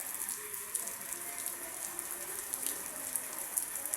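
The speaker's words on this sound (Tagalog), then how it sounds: "Nag-uulan ho." Steady rain patters and hisses against surfaces, with occasional louder drips. Continuous and even, with no speech.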